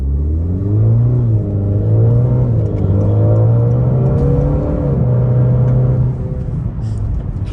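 A Honda Accord 2.0T with a Borla Type S cat-back exhaust and no resonators gives a deep, steady cabin drone that rises and falls gently with throttle, loud and continuous, before easing off near the end.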